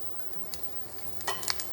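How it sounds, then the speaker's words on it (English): Garlic cloves and sesame seeds toasting in hot oil for Cantonese shrimp with bok choy: a faint, steady sizzle with a few sharper crackles and pops near the end, quiet and close, no talking. "Allow the cloves of the garlic to toast a little bit in the oil"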